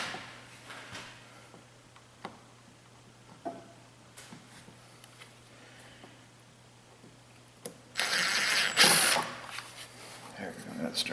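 Screw gun driving screws into a Dodge Stratus fuel filler neck: a short loud whirring burst near the end, after a stretch of faint clicks, handling noises and quiet shuffling.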